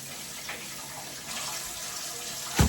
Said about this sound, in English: So we're going to get these potatoes washed and then throw them in the crock pot.